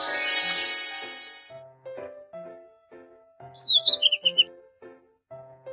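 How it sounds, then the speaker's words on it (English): A short run of high, bright chirps from a children's video game over a soft, steady electronic game melody, the bird notes quick and clustered before fading back into the music. "Bird."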